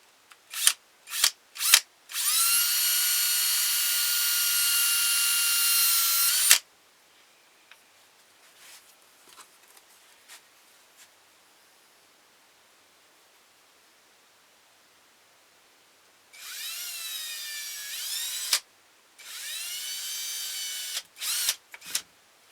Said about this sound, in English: I'm going to take my drill bit here and I'm going to start a little hole